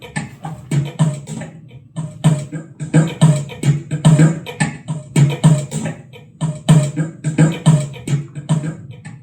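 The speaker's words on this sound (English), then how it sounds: "this is the sound of a baby crying on a London bus." A sampled baby's cry played back as rhythmic chopped percussion, with short repeated bursts on a steady pulse throughout, fairly loud and close, no talking.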